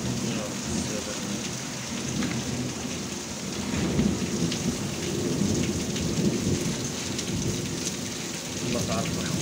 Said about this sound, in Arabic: عاصفة رعدية